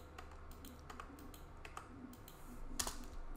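Someone types on a computer keyboard while adding columns for an accounting worksheet, producing a quiet, irregular patter of key clicks with a sharper tap near the end, alone in a hushed room.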